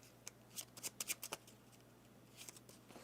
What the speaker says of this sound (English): We will also shuffle the VP deck.